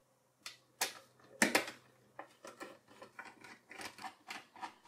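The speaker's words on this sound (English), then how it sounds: "This begins by loosening the four screws at the bottom." Bottom case screws on an Intel NUC 12 Pro mini PC being loosened with a screwdriver: a quiet series of sharp clicks and ratcheting ticks, close and irregular, with no voices.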